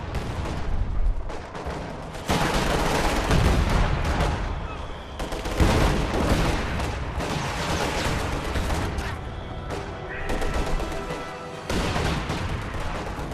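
Heavy machine gun fire and other combat sounds in the World War II strategy game Company of Heroes 2, with dense, loud bursts of gunfire and booms that continue without a break and mask everything else, and no speech.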